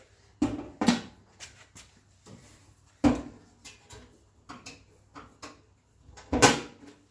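Lumberjack BS305 12-inch bandsaw door pulled shut onto its hook, giving several sharp knocks and clunks spaced out over a few seconds, close by and fairly quiet.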